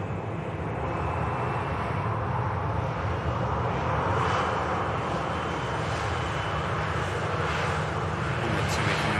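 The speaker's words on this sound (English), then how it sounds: "KLM Neo on the taxi out" A KLM Airbus A320neo airliner taxiing out at Manchester Airport gives a steady, even, broadband engine roar that holds without a break from start to finish.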